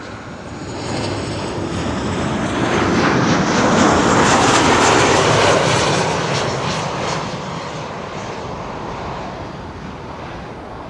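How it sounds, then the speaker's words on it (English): A KLM Boeing 737-800 jet arriving from Berlin at Amsterdam Schiphol, its engine roar swelling steadily to a loud peak mid-pass and then easing off, with no voices. "arriving from Berlin. That's a Boeing 737-800 with a camera cabin in the back."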